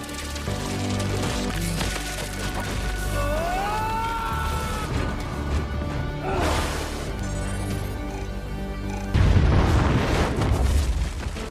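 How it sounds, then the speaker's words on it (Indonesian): A room blown up in an action scene from the Blue Beetle film, heavy deep booms and rumbling crash building into a louder burst near the end, mixed with tonal score. "Yuli berhasil meledakkan ruangan tadi"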